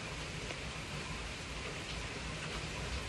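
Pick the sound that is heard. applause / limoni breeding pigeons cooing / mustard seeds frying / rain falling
rain falling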